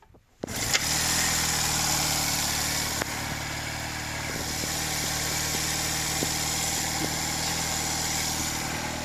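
A 46-year-old Honda CD175 motorcycle engine catches after a brief silence and settles into a steady, close, loud idle with an even throb that continues for several seconds without talk.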